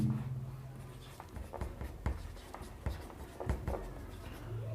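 Pen or chalk writing on paper during a Class 12 probability maths lesson, a run of short scratchy strokes and taps at close range, fairly faint, with low background hum and no talk over it.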